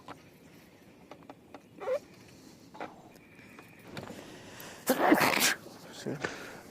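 A single sharp sneeze outdoors on a fishing boat during a walleye tournament, loud and close, amid quiet ambient noise and occasional thumps, with a person speaking nearby.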